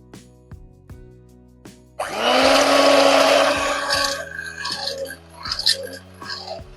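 An electric mixer beating eggs and sugar for a semolina cake whirs on suddenly after a few soft clicks and knocks, runs loud and steady for about two seconds, then drops to a lower, uneven grind.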